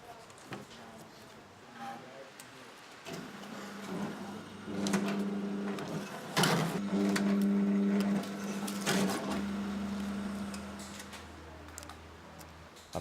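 A home-built machine trims grapevine roots to length on a farm, giving a series of short mechanical whirs and clunks that rise from about 3 seconds, with harmonic humming bursts and sharp knocks near 6.5 and 9 seconds.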